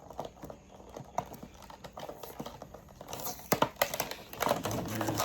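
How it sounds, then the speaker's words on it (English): Tape being peeled off a diecast toy car box, heard as close crinkling, tearing and tapping noises in bursts that grow louder and busier toward the end, with no speech. "It's hard to remove the tape."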